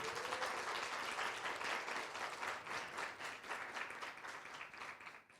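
Warm, continuous audience applause at an event honoring women entrepreneurs, a large crowd clapping steadily and fairly near, tapering slightly toward the end.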